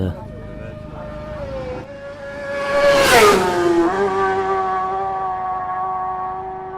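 Motorbikes pass by a garden wall on a sunny day, an engine whine rising as one approaches, peaking loud with a pitch drop around the middle, then fading as another continues droning steadily.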